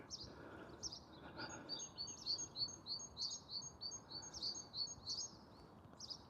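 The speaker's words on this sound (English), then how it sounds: "I hope you can hear the birds" Birds chirp and tweet in a park in a steady run of short, high, repeated calls over a soft outdoor background hiss, fairly close and clear.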